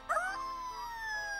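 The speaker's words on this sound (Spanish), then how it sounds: "¡Eso no suena a mono! ¡Suena más a... ¡lobos!" Wolves howling in a cartoon, a sustained wavering howl with a second voice joining, fairly faint and drawn out over a soft background.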